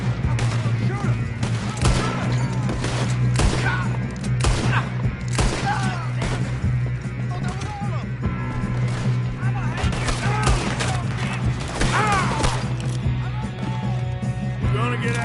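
Red Dead Redemption 2 gunfight with continuous volleys of rifle and pistol shots, some near and sharp and others more distant, going on throughout while characters talk over the shooting.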